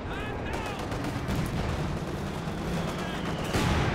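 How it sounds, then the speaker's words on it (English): Mortar fire in Company of Heroes 2 lands among dense battle noise, with continuous rumbling explosions and gunfire and a heavier boom near the end. "Oh, the mortar!"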